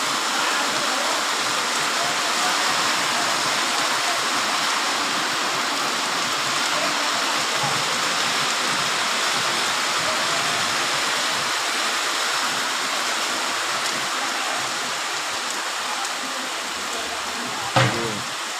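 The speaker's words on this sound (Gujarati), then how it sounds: "વરસાદ કેવો જોર પડે છે જુઓ" Heavy downpour drenches an Aatham village fair in Piyaj, a loud unbroken roaring hiss that holds steady throughout, with a brief sharp knock near the end.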